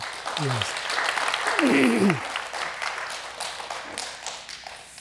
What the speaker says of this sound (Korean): 우리 격려의 박수 한번 합시다